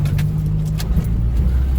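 A four-wheel drive vehicle grinds through woods on a rough track, its engine a loud, steady low rumble close by with faint rattles over the top.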